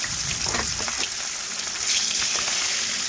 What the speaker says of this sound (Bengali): তেল ভালোভাবে গরম হয়ে গেছে, চাকাগুলো আমি দিয়ে দিলাম।